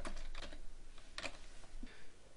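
Computer keyboard keys tapped out in quick, uneven bursts while entering a search phrase, close and crisp, with a brief pause midway before a final few clicks.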